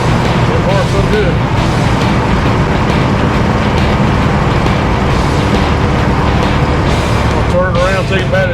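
A 1957 Chevy cruises down the road at about 55 mph and 2,500 RPM, a steady loud engine and road rumble heard from inside with someone talking over it.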